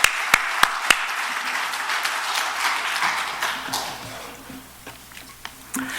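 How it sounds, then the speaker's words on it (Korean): A church congregation in Los Angeles applauds warmly to welcome a pastor to the pulpit, steady broadband clapping filling the room after a few sharp opening claps, fading gradually toward the end with scattered louder claps. "뜨겁게 박수로 맞이하시기 바랍니다."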